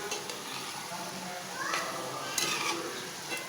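Small hilsa fish gills frying with salt in a pan, giving a steady soft sizzle with a few faint utensil scrapes.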